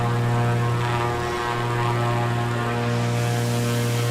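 A propeller airplane engine in Microsoft Flight Simulator, flying over Monument Valley, drones with a steady, close and loud multi-toned hum that holds throughout with no talking.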